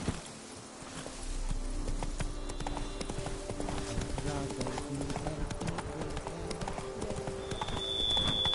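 Roach the horse gallops in The Witcher 3, hooves clip-clopping in a quick, even rhythm close up, with game ambience and a voice talking over the hoofbeats.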